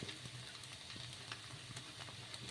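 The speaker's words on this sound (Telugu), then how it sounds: "ఇలా రెండు వైపులా బాగా కాల్చుకోవాలి." Rumali paratha cooks in oil on a hot pan, with a steady close sizzle and frying hiss and faint scraping or turning sounds. No voices.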